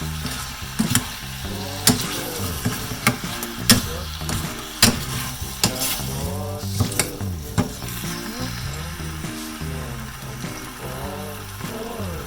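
Caramelized pork with garlic sizzling loudly in a pan while being stirred, a steady fry hiss punctuated by sharp utensil scrapes and clacks at irregular intervals throughout.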